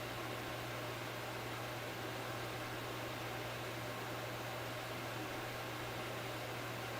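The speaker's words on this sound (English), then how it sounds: "it's literally the fan that I have that creates that white noise" Steady white noise from an electric room fan, a constant broadband hiss with a low hum, running alone at even volume throughout.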